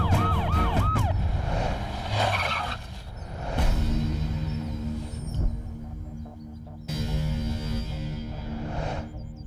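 A police siren wails in an action-movie street scene, with rising and falling tones repeating loudly at first, then mixing with crashes and other effects.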